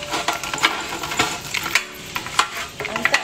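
Bread cubes being stirred and tossed in an air fryer basket give a close, loud run of dry scraping, rattling and crackling clatters in uneven bursts, with no talking.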